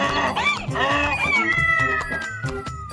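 A cartoon cat meows over busy background music, a few wavering, whiny mews rising and falling close up, with a long sliding tone running beneath.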